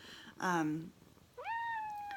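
A domestic cat meows twice up close, first a short falling call, then a longer rising cry that holds steady, with quiet room tone in between.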